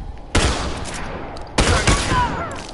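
Two heavy bursts of gunfire from The Last of Us multiplayer, loud and close, each sharp onset trailing into a noisy decay, about a second apart, with no talking.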